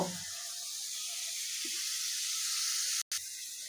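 Spice paste fries in a pan with a continuous, even, hissing sizzle, heard close and alone, with one brief dropout near the end.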